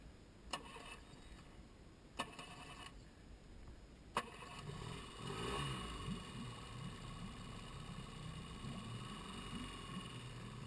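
An electric-start outboard trolling motor on a 1994 Alumaweld 18-foot Intruder boat starts after a few brief clicking cranks, then settles into a steady fast idle, faint and somewhat distant.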